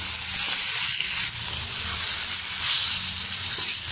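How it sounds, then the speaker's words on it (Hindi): About a kilo of chicken browns in a pan with garlic-ginger paste, giving a continuous bright sizzling hiss that swells slightly at moments, close and without speech. "अब हम 5 मिनट भून लेते हैं चिकन को"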